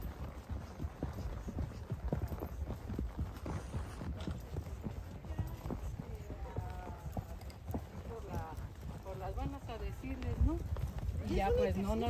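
Horse hooves clop along steadily at a walking pace, close by, with people talking over them and outdoor background noise, on a trail near Piedra Herrada, Valle de Bravo, Mexico.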